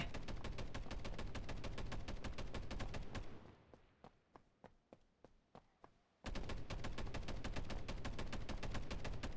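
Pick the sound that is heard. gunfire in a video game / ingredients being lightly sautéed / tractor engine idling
gunfire in a video game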